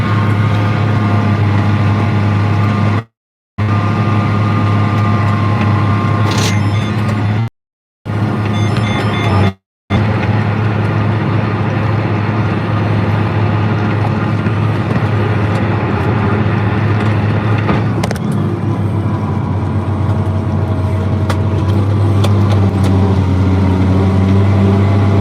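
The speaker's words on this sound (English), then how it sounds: "Yep, this is a John Deere tractor. It's John Deere 9300." A John Deere 9300 tractor engine working in a field while disk ripping, giving a steady, loud low drone with a deep constant hum, broken by a few brief dropouts.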